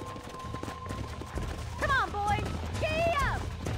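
Horses trotting in the video game Red Dead Redemption, a steady clip-clop of hooves under a whinny and background game sound, moderately loud and close.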